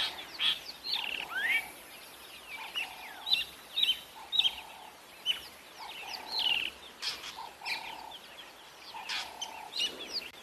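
A drongo calls loudly and repeatedly while mobbing a pale-morph Wahlberg's eagle on an evening safari: a busy string of sharp whistles, chirps and harsh notes in irregular bursts, fairly distant and alone.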